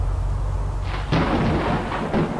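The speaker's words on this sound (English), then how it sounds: "Oh, hopefully the storm doesn't pick up." Thunder rumbling in a storm in the survival video game Unturned: a low steady rumble, then a loud crack and rolling roar about a second in, fading over the next second.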